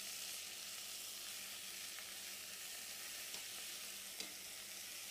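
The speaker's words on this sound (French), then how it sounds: "je vais commencer à faire colorer mes morceaux de viande" Pieces of meat browning in a pan give off a faint, steady sizzling hiss with a couple of soft clicks from stirring, with no talking.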